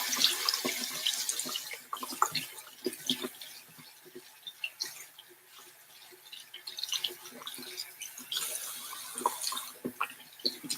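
Tap water runs and splashes into a sink while a Sonia Kashuk makeup sponge is rinsed and squeezed, a close, fairly quiet stream with uneven surges and soft wet squelches, no talk.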